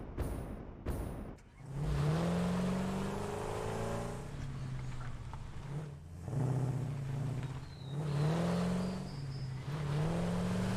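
A truck in the factory-building game Satisfactory drives along with a low, steady engine hum that swells and eases as it accelerates, heard alone at moderate level after a few short knocks at the start.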